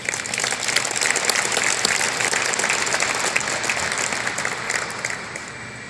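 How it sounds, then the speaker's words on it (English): A crowd applauds Bubba at a September 11 memorial evening tied to Flight 93: thick, continuous clapping that holds strong for several seconds before easing off slightly at the close. "Please give us a round of applause for Bubba."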